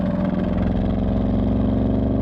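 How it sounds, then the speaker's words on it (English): Active sport exhaust on a 2019 Porsche Panamera Sport Turismo GTS, a steady, loud, deep engine drone with a rumbling low burble, held evenly throughout without any rise or pause. "There's also a standard active Sport exhaust that sounds really good on the outside,"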